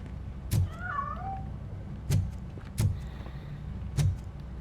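A cat meows once in the video game Robocop: Rogue City, a short wavering cry over a steady background hum, followed by several dull thumps spaced about a second apart.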